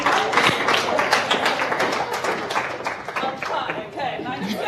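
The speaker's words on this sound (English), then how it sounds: "Let's give a round of applause." An audience at a social impact summit gives a round of applause, with dense, close clapping mixed with chatter and voices as it slowly thins out.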